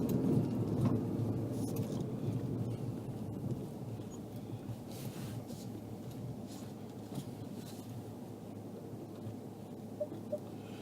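A thunderstorm during an off-road joy ride at Sheepy Hollow: steady rain drums and hisses continuously while low thunder rumbles underneath, heard throughout.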